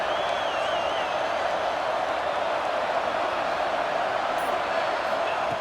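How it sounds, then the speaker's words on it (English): Steady roar of a stadium crowd at a Notre Dame at Pittsburgh college football game, a continuous dense wash of noise with no breaks. "Listen to the crowd energy here in the early going."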